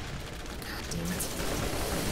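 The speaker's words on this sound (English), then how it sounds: "just unloading the entire magazine here" Gunfire in the Borderlands video game as a magazine is emptied: a rapid, dense burst of shots rattling on continuously, fairly loud and close.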